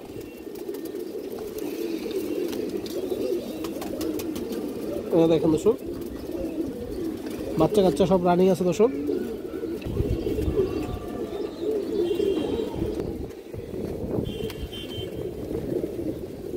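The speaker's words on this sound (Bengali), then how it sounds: "সুন্দর একটা পেয়ার কালদম কবুতর দর্শক" Black Indian Kaldum high-flyer pigeons coo in a loft, soft repeated throaty calls rising in a few brief clusters while someone talks steadily over them.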